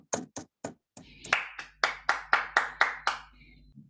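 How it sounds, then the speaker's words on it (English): Toastmasters club members greet their club president with a round of applause: a few scattered claps, then a steady run of crisp, close hand claps from a handful of people that tails off. "huge round of applause."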